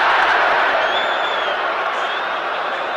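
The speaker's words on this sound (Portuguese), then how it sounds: "A torcida do São Paulo gostou." São Paulo football supporters roar in a packed stadium during a 1999 Campeonato Paulista match against Palmeiras, a steady, dense crowd noise that swells slightly and holds for the whole stretch under a faint broadcast murmur.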